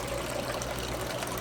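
Water runs steadily through gold prospecting gear loaded with black sand and gemstone gravel in Minnesota, a constant soft rushing trickle with no talk.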